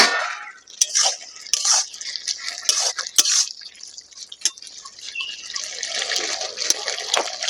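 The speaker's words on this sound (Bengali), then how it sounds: "এবার দিয়ে দেবো পরিমাণ মতো জল।" Water poured into a cooking pan of simmering potato and pumpkin curry, splashing and dripping in irregular bursts, fairly close and alone without speech.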